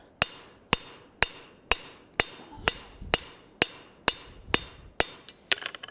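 A hammer forges a mild steel colonial-style trivet on an anvil, about a dozen sharp ringing blows at an even pace, close and loud, with a quick flurry of lighter taps at the end.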